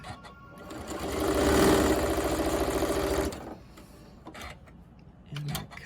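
A sewing machine stitches a diagonal seam in binding, running steadily for about three seconds with a rapid mechanical rhythm, then stopping and leaving quieter handling noises.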